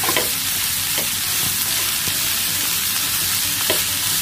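Curry leaves sauté in hot oil in a pan, a loud continuous close sizzle and crackle with occasional stirring scrapes and no voices.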